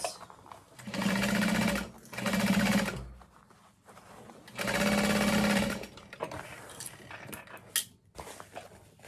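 Sewing machine stitching a half-inch seam across a handbag panel, running in three bursts, two short and one longer, with quiet handling noises between them and no talking.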